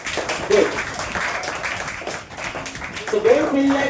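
Students in a classroom clapping, a dense patter of hand claps in bursts mixed with chatter and a raised voice speaking throughout.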